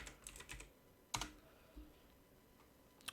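Faint, irregular clicks of keys typed on a computer keyboard, with a quick flurry at the start and scattered keystrokes after.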